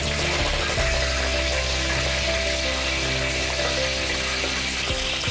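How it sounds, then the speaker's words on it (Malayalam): Curry leaves with fenugreek seeds sizzle and crackle in hot oil in a pan, a loud, dense, continuous frying hiss close up, with no talk. "ഇനി നമ്മൾ കറിവേപ്പില കുറച്ച് മാറി നിന്നിടാം"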